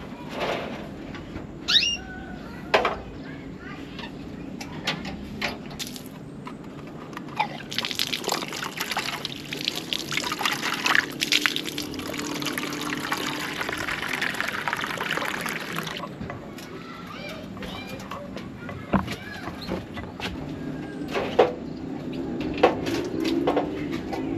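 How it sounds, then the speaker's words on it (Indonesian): Water being poured out and refilled, probably a plant-watering container in a garden where chili plants grow: a soft, continuous trickle and splash that swells in the middle, with scattered knocks and clatters and faint birdsong behind. "Sekarang saya mau ganti airnya dulu aja cuy"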